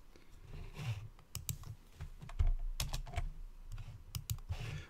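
Computer keyboard keys are pressed in quick irregular taps and clusters while playing a snake game in a Jupyter Notebook, close and crisp with no speech.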